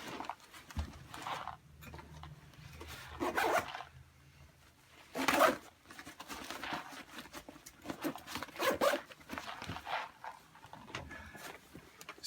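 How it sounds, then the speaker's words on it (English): Zipper on a Vanquest Falconer-27 side-entry bag being zipped shut, a series of close, quiet scratchy zipping pulls with brief bursts and soft handling rustle, no talking. "And I'm going to zip it back up."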